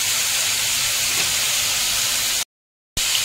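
Bitter gourd fries in a pan with a loud, steady hiss and sizzle, close by and unbroken except for a short gap near the end.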